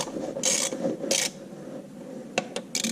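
A 9/16 inch socket wrench loosens the three bolts holding the power takeoff cage on an IHC Farmall Super MTA tractor, giving close, raspy ratcheting bursts and metallic scraping in short separate strokes.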